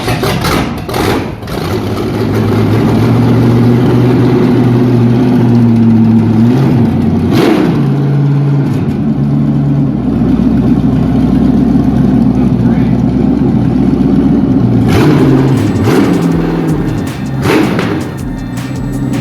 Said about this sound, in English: Check out this video of a little test fire on the engine stand.